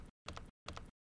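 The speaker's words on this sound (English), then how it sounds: "Page down on the keyboard to move down 5 more frames" Three crisp keypresses on a computer keyboard, the Page Down key tapped in a steady rhythm, each a short close click separated by brief silences.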